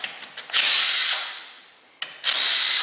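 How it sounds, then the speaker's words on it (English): A power drill or driver loosening bolts on a Ford Escape engine, two loud sustained whirring runs close by, the first winding down before a brief pause and the second starting abruptly. "So what we're going to have to do is take some bolts out of that."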